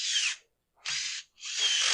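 A power driver sinks a small screw into the plastic handle of a Husqvarna 129LK strimmer in three short, close, high-pitched whirring bursts separated by brief pauses.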